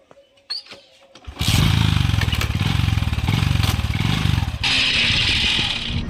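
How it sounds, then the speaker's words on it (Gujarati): A motorbike engine starts up and revs steadily as the rider pulls away on a trip to a Goga Bapa shrine, loud and close, with a brief clatter before the engine catches. "તો આપણે બાઇક લઈને રવાના થઈ ગયા"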